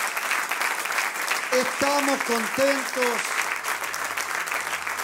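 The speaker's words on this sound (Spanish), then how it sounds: "denle un gran aplauso al Señor para que nos demos ánimo" A church congregation claps steadily throughout, a loud sustained wash of applause, while a voice speaks briefly over it.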